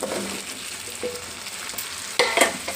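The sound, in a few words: cucumber pieces added to frying tomatoes and stirred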